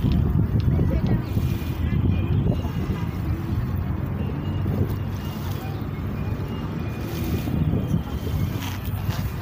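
Steady wind gusts across the open shoreline at Manila Bay, a broad blustery rush buffeting close to the microphone, with a person talking over it throughout.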